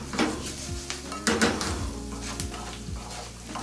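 Yellow pumpkin pieces are stir-fried over a raised flame, giving a soft sizzle under scraping and clinking of a spoon against the pan, with a few louder knocks in the first half, heard close with no talking.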